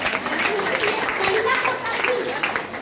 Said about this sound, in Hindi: तो सर के लिए भी जोरदार ताली बजाना चाहिए।